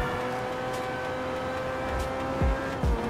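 A car in the GTA V video game drones along with a steady engine hum, then tires squeal briefly twice near the end as it drifts through a curve; no one speaks.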